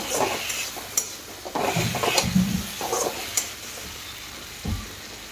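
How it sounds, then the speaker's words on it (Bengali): Masala and onion frying in a pan for an egg curry, with a soft steady sizzle under a few clinks and scrapes of a stirring spoon against the pan. "এই মশলা ফ্রাই হতে হতে পেঁয়াজ অনেক সুন্দর ফ্রাই হবে"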